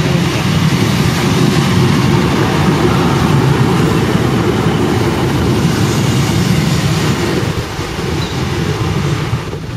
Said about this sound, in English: And there's my train.